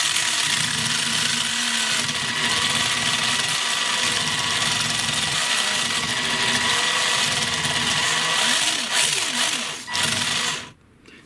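A Tamiya M05 radio-controlled car runs on throttle with a steady electric whine and rattling chatter from the front end for about ten seconds, then drops away quickly near the end.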